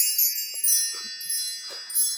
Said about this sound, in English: Let's start off by calling in Spirit with some wind chime time.